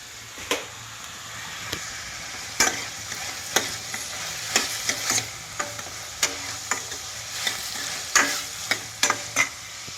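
Vermicelli fries in a pan with a steady soft sizzle while a spoon stirs and scrapes against the pan in irregular sharp taps, close up, with no voices.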